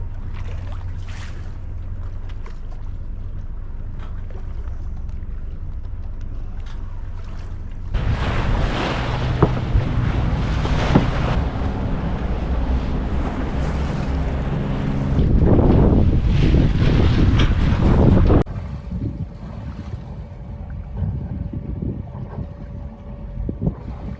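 A sailboat motors along the Okinawa coast near Ishigaki, giving a steady engine drone under loud wind and rushing water that swells in the middle and then eases to a quieter, steady hum.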